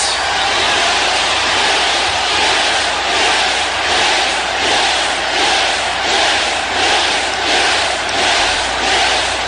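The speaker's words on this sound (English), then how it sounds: "You hear that? The reason they cheer for him is because he works and he earns it." A packed pro wrestling arena crowd roaring and cheering in a loud, continuous wall of noise, swelling in rhythmic waves as if chanting, with no talk over it.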